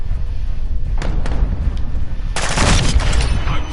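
Gunfire in the Modern Warfare II (2022) video game: a steady rumble of shots with a few sharp cracks, swelling into a louder, denser burst of fire toward the end.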